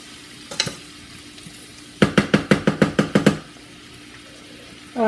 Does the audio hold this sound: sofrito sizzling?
yes